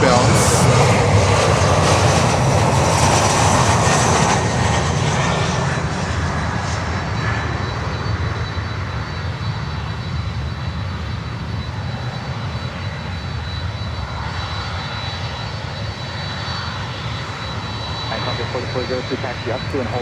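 Broadband roar of cargo jet aircraft at Miami airport, a steady, loud engine rumble that eases slightly partway through, with faint radio-style talk in the background.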